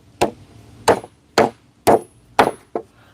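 Hammer blows during an outdoor wooden fence repair: six sharp, close, loud strikes at a steady pace, the last one lighter, with quiet gaps between and no talking.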